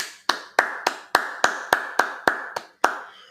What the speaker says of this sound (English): All right, clap that up.